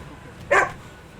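A blue pit bull lets out one short, sharp bark, close by, with no other sounds nearby.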